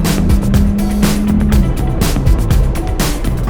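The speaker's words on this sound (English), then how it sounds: "the first road-going Ferrari with a V6 engine, and that too with hybrid machinery" A Ferrari 296 GTS, a V6 hybrid convertible sports car, is driven hard, its engine revving loud and close with rising and falling pitch, rough rushing bursts and brief gear-change dips.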